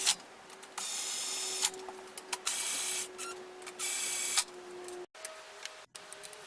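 Impact gun running cylinder head bolts down onto their washers during a Ford Racing Puma Stage 2 engine service, giving three loud, close buzzing bursts of about a second each with a steady whine and short pauses between.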